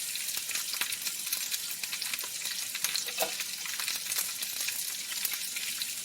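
Boneless skinless chicken breast frying in oil in a crowded pan gives a steady, even sizzle with scattered small crackles and pops, constant and moderately quiet, with no voices.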